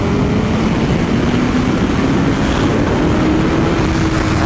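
A BMW S1000RR inline-four sport motorcycle accelerates hard in third gear, a loud steady engine drone with a rising tone, heavily buffeted by wind roar across the whole stretch, no talking.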